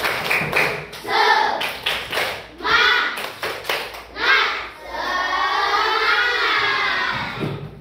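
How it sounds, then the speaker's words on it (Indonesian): Children in a classroom clap a rhythmic chant together, sharp bursts of claps in a patterned sequence, with young voices calling out and a drawn-out sung or shouted ending. "Coba tepuk semangat dulu."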